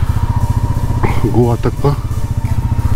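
A Royal Enfield Meteor 350 motorcycle on a Pune to Goa ride gives off a steady, low, pulsing engine thump close to the microphone, running under someone speaking in Hindi.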